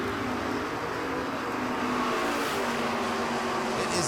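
A Chevrolet Malibu drag car runs down the strip at a drag racing event, a loud, steady engine roar filling the whole stretch without a break, with a faint passing whine near the end.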